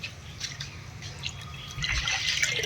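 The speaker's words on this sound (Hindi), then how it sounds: "पानी अभी चल ही रहा," Water trickling and splashing from a burst pipe nearby, a soft steady flow that grows slightly louder toward the end.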